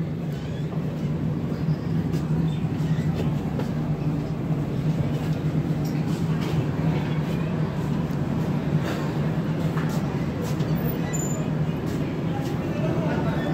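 A passenger train pulling out of Champa Junction on the Howrah to Raipur route gives a steady low rumble and rattle heard from inside the coach, continuous and moderate, with voices talking over it.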